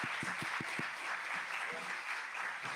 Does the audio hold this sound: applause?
yes